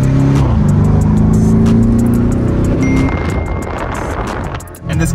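A red Lamborghini Urus drives along, its engine a steady loud drone that swells and then settles into a rougher, lower rumble mixed with road and wind noise, with no talk.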